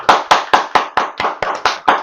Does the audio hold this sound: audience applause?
yes